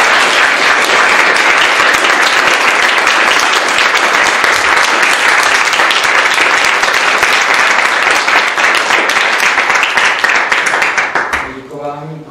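Sustained, dense applause from a debate audience honoring a professor, loud and even for about eleven seconds before fading out as a voice begins.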